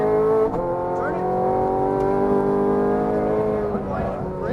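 Ferrari F430 Scuderia engine under throttle on a race track, a loud, steady, high-pitched wail with harmonics that holds and slowly shifts pitch over several seconds, close and continuous, with a brief dip near the start.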